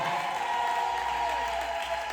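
A church congregation applauds steadily, with sustained clapping filling the space and high warbling ululation cries riding over it.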